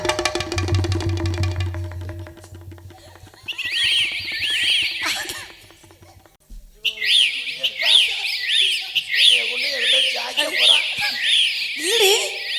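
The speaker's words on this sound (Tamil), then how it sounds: "பறவைகள்லாம் கூட்டம் கூட்டமா வந்துருச்சு." A flock of birds chirps in a dense, overlapping chorus of rapid tweets that grows loud and busy after an opening stretch of low tonal sound.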